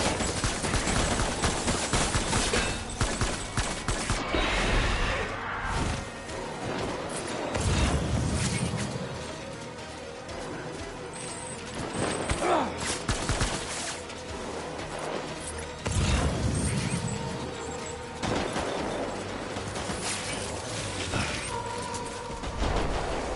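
Soldiers open fire in Death Stranding Director's Cut, a long stretch of gunfire and mechanical clatter with recurring heavy surges and rumbles, loud and sustained over a busy, noisy backdrop.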